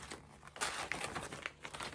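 A plastic zip-seal project bag for cross-stitch work crinkles while handled close up, a run of soft irregular rustles and sharper crackles, fairly quiet, with no talk over it.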